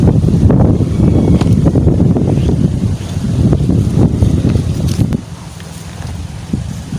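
Strong wind buffeting the microphone with a loud, rumbling roar that eases somewhat toward the end.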